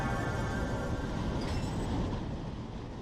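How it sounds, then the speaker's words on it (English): Freight train in the Run 8 train simulator rumbles past with dense, steady rolling noise and a faint wheel squeal, loud and continuous throughout. "Oh, we got a train coming through here."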